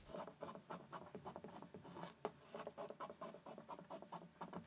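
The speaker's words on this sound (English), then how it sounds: "I would take my ruler and just draw 3 centimeters line" Pencil or marker drawing a 3 cm line across fabric along a ruler, a steady run of soft, close scratchy strokes with a light rhythmic patter and no talk.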